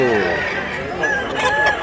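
A fighting rooster for sale at a market in Mantalungon, Cebu, crows once up close, a rough drawn-out call under nearby chatter.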